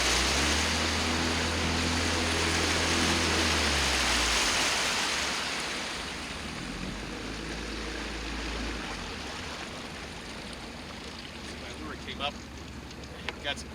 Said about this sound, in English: Now I'm going to speed up the motor.